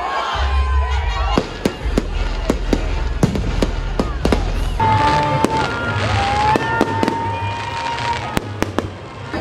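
Fireworks burst at the Rose of Tralee festival in a rapid series of loud, sharp bangs. A whistling streak rises among them, and crowd noise and voices murmur underneath.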